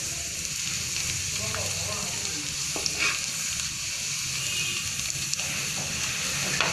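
Homemade potato french fries frying in oil, a constant loud bubbling sizzle with occasional stirring clicks, heard up close.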